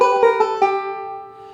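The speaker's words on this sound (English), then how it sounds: "this cool little chromatic melodic lick" A banjo plays a quick chromatic melodic lick of a few plucked notes, the last one ringing out and slowly decaying; bright and close.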